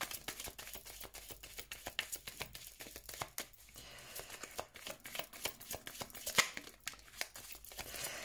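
Tarot cards are shuffled for a reading, giving a soft, quick run of papery riffles and slaps up close with uneven bursts throughout, no talking.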